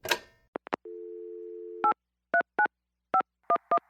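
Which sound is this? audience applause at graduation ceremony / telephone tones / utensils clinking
telephone tones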